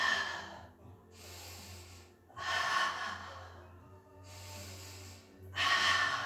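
Heavy exercise breathing, a few deep, loud breaths close by, each a long rushing inhale or exhale separated by short quiet pauses, with no talking.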